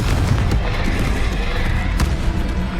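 A Confringo explosive spell detonates in the Hogwarts Legacy video game, a dense booming blast amid continuous loud combat noise with a sharp burst near the end, a voice calling out spells over the action.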